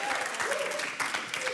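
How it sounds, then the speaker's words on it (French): A studio audience on a French television dating game show applauds a guest couple, a steady dense patter of many hands clapping throughout, with faint tonal music threading underneath. "On vous applaudit, merci d'être là et on salue Johan et Wendy."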